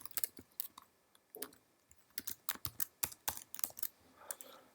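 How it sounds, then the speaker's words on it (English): Steady typing on a computer keyboard, many close, crisp key clicks in uneven rhythmic runs with brief pauses between bursts. "we would type something like what we typed here"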